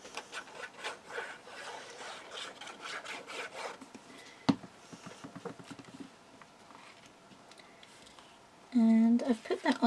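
Stamperia paper is burnished in place with quick, close rubbing and scraping strokes, while someone talks over it.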